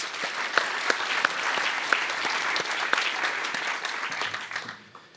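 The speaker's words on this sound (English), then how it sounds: "Please give them a round of applause." A round of applause fills an evening event hall, steady dense clapping from the audience with a few sharper claps standing out, tapering off at the end.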